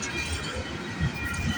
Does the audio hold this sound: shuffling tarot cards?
no